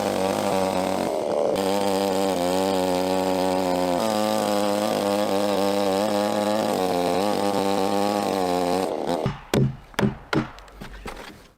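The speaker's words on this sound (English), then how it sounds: "Large trees are being cut down and cut into pieces with chainsaws to the right size." A chainsaw running at steady high revs for several seconds while cutting large tree logs in a forest, then a series of sharp knocks and chops as it stops.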